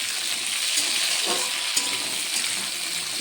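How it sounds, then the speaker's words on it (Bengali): Potatoes, beans and cauliflower cooking in a pan, a soft steady sizzle and hiss with a brief stirring clatter, close and fairly quiet, no talk. "বসিয়ে দিয়েছি আলু, শিম আর হচ্ছে ফুলকপি।"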